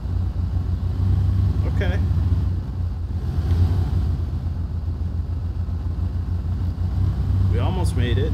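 A Land Rover Defender 90 in the SnowRunner video game crawls in low gear with all-wheel drive engaged, its engine a steady low rumble throughout, while someone briefly speaks over it.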